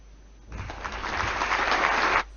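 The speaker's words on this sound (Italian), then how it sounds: "Un lungo applauso dopo il minuto di silenzio." A long round of applause fills a regional assembly hall after a minute of silence, rising quickly from quiet and holding steady, dense and loud, before stopping abruptly.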